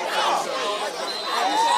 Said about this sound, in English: you can see the crowd cheering